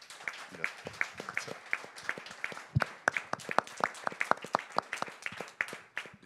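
Small audience clapping at the close of a project micro-presentation in an exhibition space, a quiet scattered patter of hands with laughter and talk around it.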